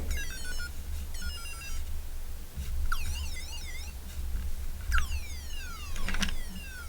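Ringing and warbling electronic tones from a toy fake phone in a 1990s McDonald's toy, sounding in several bursts of chirpy rising and falling beeps, fairly close and alone.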